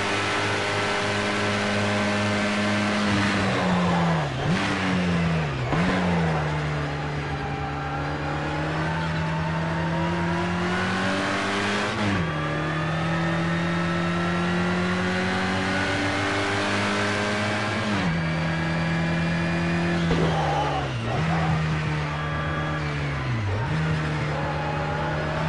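Race car engines in Project Cars 2 rev hard and accelerate, a loud continuous whine climbing in pitch with several sharp drops at gear shifts, running throughout without talk.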